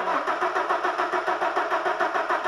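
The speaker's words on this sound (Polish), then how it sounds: "kręcimy rozrusznikiem" An Audi Quattro VR5 turbo engine is cranked over by its starter motor, a continuous, loud, pulsing whir with an even rhythmic beat and no catch or firing.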